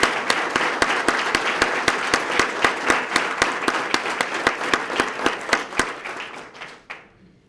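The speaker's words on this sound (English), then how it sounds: "let's give them another round of applause" Newly sworn-in police officers receive a round of applause at a swearing-in and promotion ceremony, a small crowd clapping in fairly even rhythm that thins and stops near the end.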